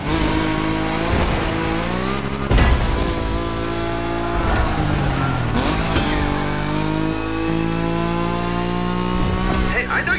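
A Nismo car's engine accelerates hard in the racing game The Crew Motorfest, loud rising revs climbing through gear shifts with whining pitch sweeps, while a voice talks over the driving.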